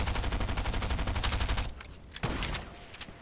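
Rapid gunfire in Fortnite, a fast rhythmic burst of repeated shots for over a second, then a few scattered louder single shots, close and loud.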